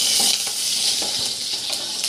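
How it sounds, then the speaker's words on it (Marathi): Cumin, mustard seeds and curry leaves hit hot oil in a pan, giving a steady close sizzle with brief crackles and light stirring, no voices. "त्यामध्येच आपण जिरं टाकूया एक चमचा। बघा, मोहरी पण टाकू एक चमचा, कढीपत्ता टाकूया"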